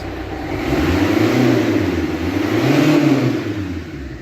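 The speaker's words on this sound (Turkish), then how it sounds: "Şimdi biraz bir gaz verelim arkadaşlar." A 1.5-litre diesel Renault Kangoo engine revs up twice in slow swells, rising and falling in pitch, loud and close, with no one speaking.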